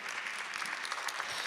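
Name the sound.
audience applauding and cheering for Reverend James Cleveland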